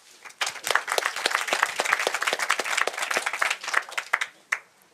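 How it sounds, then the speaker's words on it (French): A small audience at a French Tech Day 2021 pitch competition claps, with distinct individual hand claps building quickly, staying brisk for a few seconds, then thinning out to scattered final claps. "Sous vos applaudissements."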